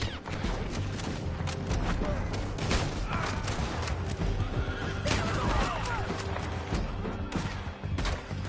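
Horses whinny repeatedly over a dense clatter of galloping hooves, with sharp bangs mixed in, all loud and busy like a chaotic battle in Red Dead Redemption 2.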